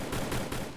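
Rapid gunfire in the Free Fire video game, three quick loud bursts in under a second.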